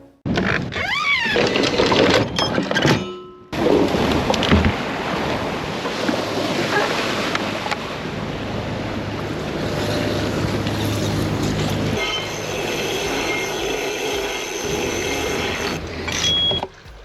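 Sailboat underway at sea off Long Island in the Bahamas, a steady rush of wind across the microphone mixed with waves washing along the hull, loud and continuous, with brief gusty dropouts early on.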